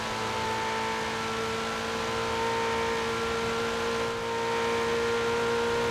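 Stock 2019 Ferrari 488 Pista engine in Forza Horizon 4, a loud, steady high-revving drone with tonal harmonics and a brief dip as a gear change cuts in, continuous throughout.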